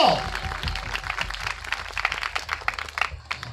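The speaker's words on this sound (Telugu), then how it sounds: "గట్టిగా చప్పట్లు కొడదామా?" A church congregation claps loudly in dense, continuous rapid bursts throughout, with crowd sound mixed in.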